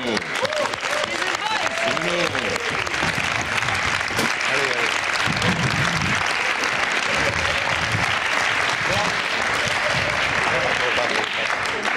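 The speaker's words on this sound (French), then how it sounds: "On refait les applauses à la sortie de The Voice." An audience at a TV talent show recording applauds loudly and continuously, a dense wash of many hands clapping with crowd voices mixed in throughout.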